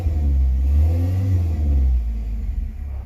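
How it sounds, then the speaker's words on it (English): A car engine revs up hard and close, a loud low rumble that swells and holds for a couple of seconds before easing back, with a rattling exhaust audible through the idle. "Let's rev this one up a bit."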